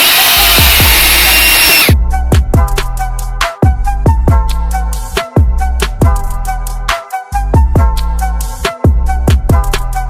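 Power drill boring holes into wooden studs during a garage rewiring job, loud and close, in repeated bursts of whirring separated by brief pauses and clunks.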